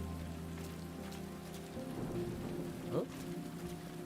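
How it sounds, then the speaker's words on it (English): Steady rain patters on surfaces in the game Road 96, with low thunder rumbling beneath and a brief stronger rumble near the end; no voices. "let's wait out the rain in the booth."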